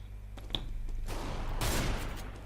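Gunfire in Counter-Strike: Global Offensive, a dense burst of rapid shots building into a louder volley near the end, heard against steady game background noise.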